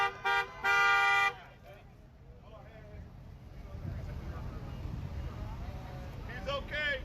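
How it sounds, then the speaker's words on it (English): A car horn honks loudly at a street protest, with two or three short blasts followed by a long blare before traffic noise and talking take over, and another faint horn near the end. "he was honking his horn"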